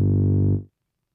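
Wobble bass synth tone built from two pulse waveforms with phase distortion, a loud sustained buzzy note with dense harmonics that holds for about half a second, then cuts off into silence.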